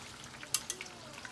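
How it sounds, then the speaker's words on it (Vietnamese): Sea fish shallow-frying in a pan gives a soft, steady sizzle, broken by a few sharp, close clicks of a utensil against the pan. "Mình chiên cho nó sơ thì thôi nha"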